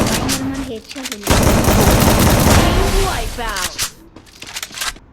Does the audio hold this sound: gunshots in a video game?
yes